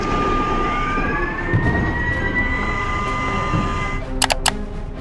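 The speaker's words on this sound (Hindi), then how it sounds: "कल जम्मू में शाम ढलते ही हवाई हमलों के सायरन बजने लगे।" An air raid siren wails, rising and falling steadily in the distance over Jammu at dusk, with a few sharp clicks near the end.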